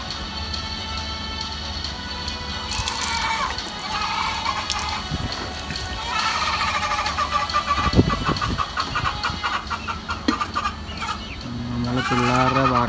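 Domestic country chickens cluck and call repeatedly at close range on a small backyard poultry setup, overlapping irregularly over a constant background hum.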